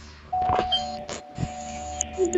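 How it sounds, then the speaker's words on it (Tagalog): A doorbell rings inside a house in the Roblox game Brookhaven, a sustained electronic chime tone that holds steady for about two seconds while a person talks over it. "Ito doorbell agad."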